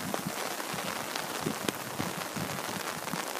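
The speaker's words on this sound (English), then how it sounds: "It's full on raining." Steady rain patters on a surface nearby on Pohoiki Road, Pahoa, on Hawaii's Big Island, a dense hiss of drops with scattered sharper taps and no voices.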